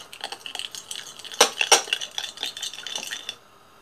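Boiled potatoes being mixed with garlic purée for harissa potatoes, a run of close spoon-on-bowl scraping and clinking with two sharper knocks midway, then stopping.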